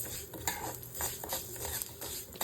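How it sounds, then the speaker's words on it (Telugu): Mustard seeds splutter while frying in a pan for a mango and ginger pickle, giving faint crackles and soft pops over a quiet sizzle, close by, with no voices. "ఆవాలు కూడా కొంచెం చిట్టపట్లాడటం మొదలుపెట్టింది"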